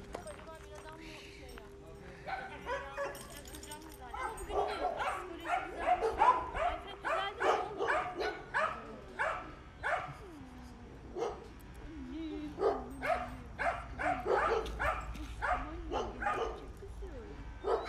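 Two dogs being left at an animal shelter bark repeatedly in short, loud bursts, with yips and whimpers in between and faint clopping, while a voice talks at times.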